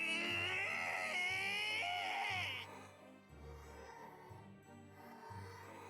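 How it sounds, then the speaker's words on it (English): Wild scream in the visual novel Umineko When They Cry, a loud, wavering shriek lasting a couple of seconds over droning music, then cutting off as the music continues. "As the furniture let out a wild scream"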